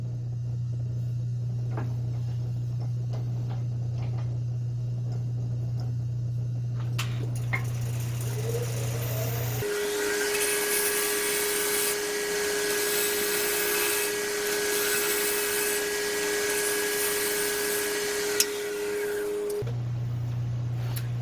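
A wood sphere spins on a lathe while a tool cuts it, a steady motor hum giving way to a louder, broadband scraping whir for about ten seconds, then the hum returns.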